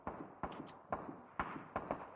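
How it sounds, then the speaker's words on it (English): Distant gunfire in Call of Duty Mobile battle royale, a series of sharp cracking shots arriving in irregular bursts, each with a short echoing tail, mid-level and fairly far off with no talk over it. "I hear a lot of gunshots."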